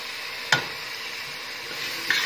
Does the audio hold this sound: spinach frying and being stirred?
yes